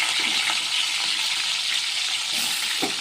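Dried fish fry in hot oil in a pan, giving a steady, dense sizzle throughout with a few faint stirring scrapes.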